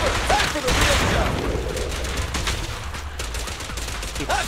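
Rapid bursts of gunfire from the video game Zenless Zone Zero, loud and dense throughout, with a character's shooting blending into booming effects under steady background noise.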